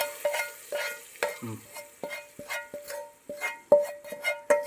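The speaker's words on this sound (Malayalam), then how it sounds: "ഇനി ഒന്ന് ഇളക്കിക്ക് ആ സ്റ്റിക്കിനൊന്ന് ഇളക്കിക്ക്" Dal curry in a pan being stirred just after a tempering is added, with soft repeated scraping strokes over a light sizzle, close and steady with no talk.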